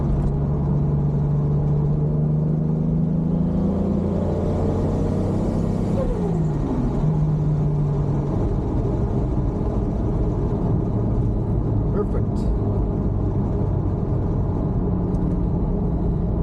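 A Toyota Supra running high boost drives steadily, its engine holding a continuous low rumble and whir with a rising and falling pitch sweep, close and loud, with no one talking.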